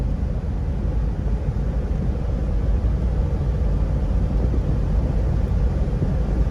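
A 2000 Toyota 4Runner with the 5VZ V6 engine, suspected of running rich and misfiring, runs at a steady, even drone with constant low rumble and no talk.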